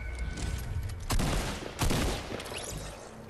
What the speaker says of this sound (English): Yep, they just shot at me.